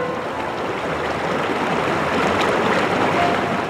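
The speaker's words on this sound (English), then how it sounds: "Only the water runs fresh here." Water runs steadily beneath an aged railroad bridge in Maryland, a continuous broadband rush of flowing current, fairly close and constant throughout with no voices.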